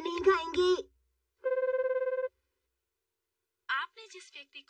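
A phone rings on an unanswered call in a Shinchan cartoon, a steady electronic trill of rapid pulses lasting about a second, set between stretches of cartoon dialogue before and after.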